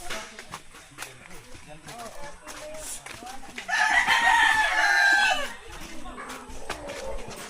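A rooster crows once loudly and close, a long drawn-out call rising above scattered clucking and outdoor background while people talk nearby.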